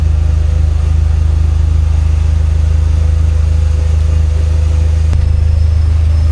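A Dodge SRT-4 engine runs steadily at idle, a loud, constant low drone with no revving and no voices, broken only by a single brief click near the end.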